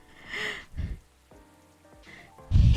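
Rain in the Coffee Talk video game, a steady patter of rainfall with soft low rumbles, heard beneath brief bursts of game sound and tones.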